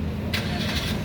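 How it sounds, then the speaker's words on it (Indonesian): A 2018 Suzuki Ertiga 1.5 GX automatic starts by push button, its engine catching with a short burst and settling into a steady, close mid-pitched idle rumble. "Sekarang kita injak pedal rem, kita pencet ya."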